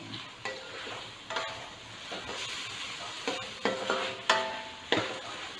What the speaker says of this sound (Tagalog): Haluin natin ng maayos.